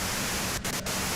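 Video game white noise static, a loud continuous hiss with two brief dropouts partway through, no voices.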